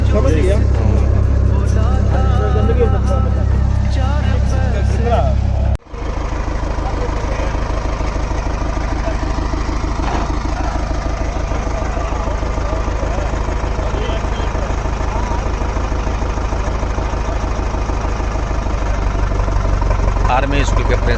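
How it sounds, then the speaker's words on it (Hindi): A tractor ploughing a field, driven by an army school principal, with a steady loud engine drone that carries on throughout, briefly interrupted by a sharp cut, while people talk over it. "आर्मी स्कूल के प्रिंसिपल सर चलाते हुए खेत जोत रहे हैं हमारा"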